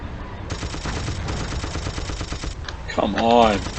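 Gunfire in a Battlefield video game during an Axis campaign battle, a dense run of sharp shots and bursts with rumbling background, then a tonal voice-like sound near the end.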